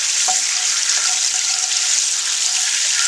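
Mushrooms cook in a pan of Madeira wine sauce with a loud, steady, bubbling sizzle that stays close throughout, with one faint clink near the start and no voices.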